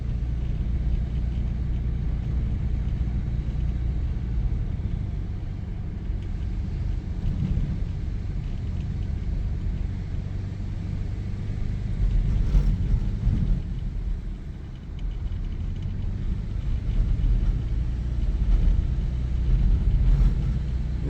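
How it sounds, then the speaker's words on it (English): A Cummins diesel truck engine rumbles low and heavy while driving, steady droning power with a swell near the middle and faint turbo whine riding on top, no voices. "Just like makes lots of turbo noises though, which is kind of nice."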